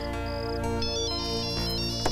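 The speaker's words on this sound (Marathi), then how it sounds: "अरे आता कोणाचा फोन" A phone ringtone plays continuously for about two seconds as a steady melodic electronic tone pattern in a hotel room, with no talk over it.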